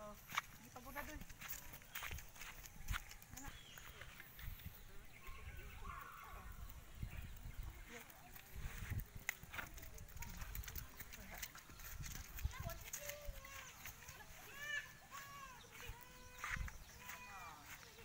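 A horse walks with rhythmic hooves clip-clopping throughout, a faint outdoor background behind it, and people talking intermittently.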